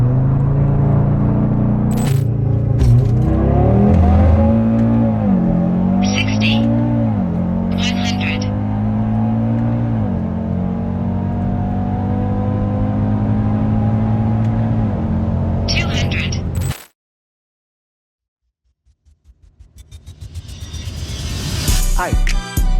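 A stage 3 Audi 2.5T five-cylinder engine revs hard and loud, its tone climbing and dipping through several pulls before cutting to silence, then music fades in at the end.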